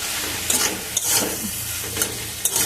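Bottle gourd frying in a pan while being stirred with salt and turmeric: loud close sizzling broken by several sharp scrapes of the spoon against the pan, no voices.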